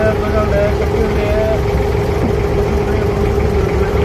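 Ferry boats at a ferry landing in Dubai, a steady droning engine idle with a constant low rumble and faint tonal whine, talk faintly mixed in.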